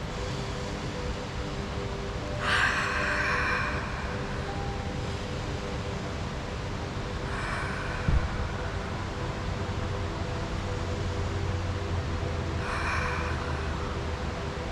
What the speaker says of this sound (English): We're going to start by breathing in and out of the body 3 times.